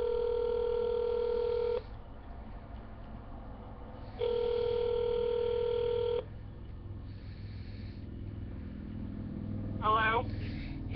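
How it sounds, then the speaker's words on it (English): Phone call to a cell phone: two long ringback tones separated by a pause, with faint background noise and a short burst of voice near the end. "We're gonna call her cell phone again and see if she answers."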